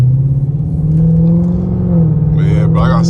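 A straight-piped second-generation Dodge Charger R/T drones loudly from inside the cabin, its deep steady exhaust note holding, then dipping briefly, while a voice talks over the engine near the end.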